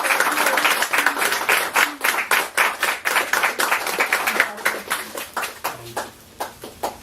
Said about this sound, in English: would you please give a round of applause to my mom?